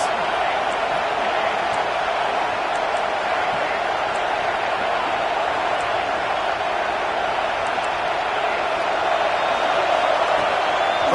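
A packed football stadium crowd roars for the defense during an LSU versus Alabama game, a dense, steady wall of cheering that holds at full volume throughout.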